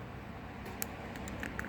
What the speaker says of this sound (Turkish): Ağır ağır çıtırtı sesleri geliyor.